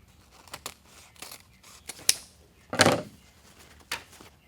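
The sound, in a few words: cutting ribbon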